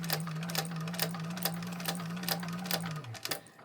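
An electric sewing machine runs steadily through waterproof canvas near a wristlet strap, its motor humming at an even pitch under rapid needle clatter, then winding down and stopping near the end.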